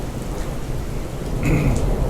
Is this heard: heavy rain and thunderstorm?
yes